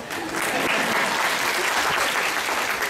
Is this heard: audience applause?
yes